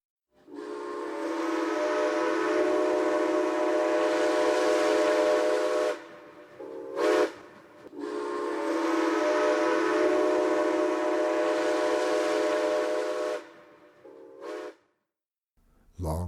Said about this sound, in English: It was nearly 11 o'clock when Kate heard number 11's whistle.